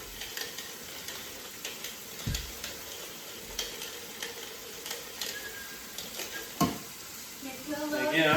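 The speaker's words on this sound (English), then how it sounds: "Again, I'm cooking this on a very high heat." Food frying on very high heat in a pan for tuna noodle casserole, sizzling steadily while being stirred with repeated scraping strokes, with brief voices near the end.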